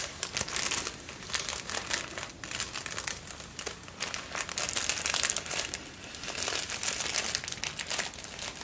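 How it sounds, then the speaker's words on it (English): Soft crinkling of a crinkly material handled up close, a steady stream of fine crackles and rustles at low volume with no talk. "there's just something about crinkle noises"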